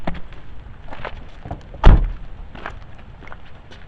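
A heavy door thuds shut once near the middle, loud and close, amid softer knocks and rustling, during heavy rain.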